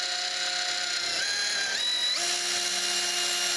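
Power tool cutting a piece of metal stock in a machine shop, a steady high-pitched whine with rising tones partway through, close and loud, no talking.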